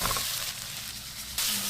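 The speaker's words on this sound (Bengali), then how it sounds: "মাংসটি কষে নিচ্ছে।" Chicken meat frying with spices, a brief close sizzle with a muffled stirring scrape and a sudden louder burst of sizzling near the end, no speech.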